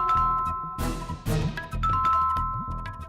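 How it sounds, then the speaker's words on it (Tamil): A doorbell chimes over background music, its bright tones ringing out twice with short pauses between. "அதே மாதிரி காலிங் பெல் அடிக்குதே"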